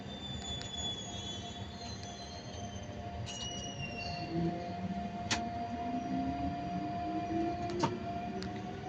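Z2N electric train heard from inside the cab on the Les Arcs–Draguignan to Nice line, a steady rumbling drone with a rising motor whine and occasional sharp clicks and rail squeals throughout.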